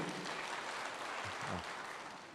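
A crowd applauds a Senate majority leader, Aaron Cheruiyot, at a public gathering, a distant steady wash of clapping that swells briefly and then eases off.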